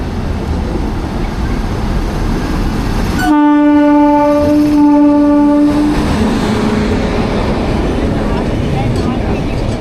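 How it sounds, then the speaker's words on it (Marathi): The Amrit Bharat Express rumbles into a station platform and sounds a loud, sustained horn for about three seconds, set against steady rolling train noise. "13435 अमृत भारत एक्सप्रेस गाडी आलेली आहे."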